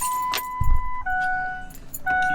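Ignition key turned to the on position in a Ford 6.0 Powerstroke Super Duty, with a brief clunk and key jangle followed by steady dashboard chimes and tones, loud and close, no talk.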